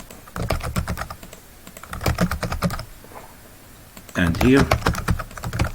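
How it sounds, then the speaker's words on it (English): Rapid bursts of clicking keystrokes on a computer keyboard, close and clear, in a few short runs while a person talks. "Let's type anything here"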